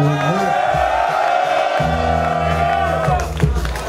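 A big festival crowd in a white tent at the Am Strom festival roars and cheers loudly and steadily while music plays, with no pauses in the noise.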